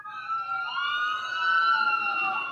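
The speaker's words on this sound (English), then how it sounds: "You would think you'd hear the sirens by us, but no, they're by him." Emergency vehicle sirens wailing outside, a loud, steady rising and falling tone that sounds fairly close and continues throughout with no one talking.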